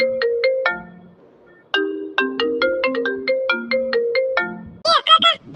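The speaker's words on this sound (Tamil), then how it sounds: "உனக்கு தான் போன் அடிக்குது" A mobile phone ringtone plays a loud, close, repeating melodic tune of bright electronic tones in steady phrases, and a short burst of voice comes in at the very end.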